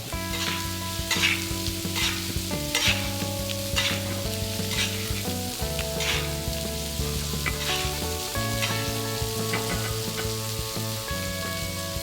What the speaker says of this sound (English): we're going to baste those mushrooms